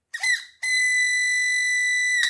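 The motor of a 12 kW electromechanical voltage stabilizer gives off a loud, steady high-pitched whistle, starting with a short wavering burst, then holding a pure sustained tone for nearly two seconds before cutting off.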